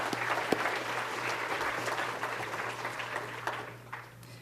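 An audience at a middle school dedication ceremony applauds in a dense burst of clapping that slowly thins and fades over a few seconds.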